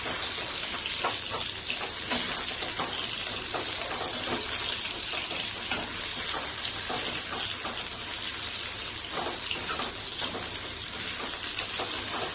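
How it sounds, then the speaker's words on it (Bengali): Brinjal (eggplant) pieces frying in hot oil, a continuous dense sizzle and crackle held steady throughout, close up with no voice over it. "বেগুনগুলোকে ভেজে নিচ্ছি।"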